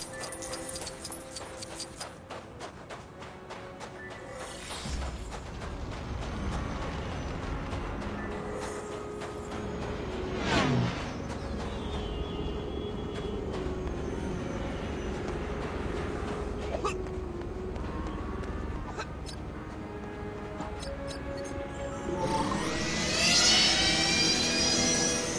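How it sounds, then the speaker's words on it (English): Star Wars landspeeder engine effect: a steady, full-bodied hover whine and rumble that swells louder near the end, alone with no talk, set in the desert outskirts of Mos Eisley spaceport. "We can take my speeder."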